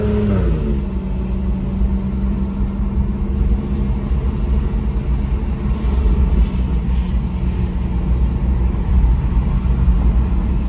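A Porsche 911 cruising through downtown streets in normal mode, a steady low engine and road rumble heard from inside the cabin, with a brief shift in engine pitch at the start and then an even drone.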